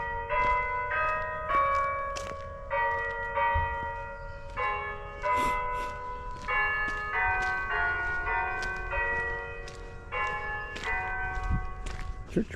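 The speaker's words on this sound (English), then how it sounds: "Church bell's going off." A church bell ringing in Essex, New York, a run of loud, clear, ringing strikes at a steady pace, each tone hanging and overlapping the next, with faint footsteps beneath.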